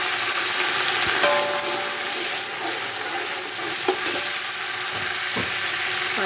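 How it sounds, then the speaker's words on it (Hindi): Onions, about half a kilo, frying in oil in a pan while cooking chana pulao, giving a steady close sizzle throughout with occasional stirring scrapes and clinks. "प्याज फ्राई हो रहा है, तो इसको गोल्डन सुनहरा करना है।"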